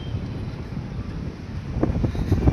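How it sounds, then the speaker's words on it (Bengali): Strong wind buffets the microphone at a river ferry ghat at Diamond Harbour, a loud continuous low rumble with gusts, joined near the end by thumping knocks that may come from the waves. "প্রচুর হাওয়া হচ্ছে"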